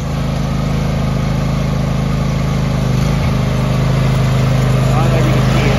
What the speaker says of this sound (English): There you are, Ariens 20 horsepower, 46-inch mower.